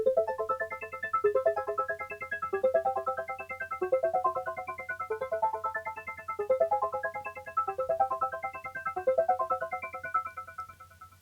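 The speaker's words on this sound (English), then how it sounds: "This is an E-piano, believe it or not, and I put the same plugin." Electric piano processed through a free waveform-modifying plugin, playing a repeating phrase of rising note patterns with a steady, chopped tone and a constant low hum beneath, close and moderately loud with no talking.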